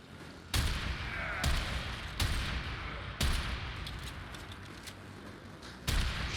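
Warframe gunfire: a series of five or six loud, evenly spaced single shots, each a sharp crack with a lingering decay, ringing out alone over a steady background hum.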